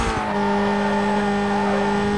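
A Mazda RX-8 race car in Need for Speed: Most Wanted holds a steady, loud high-revving engine drone, with a brief tire chirp at the start and no voices.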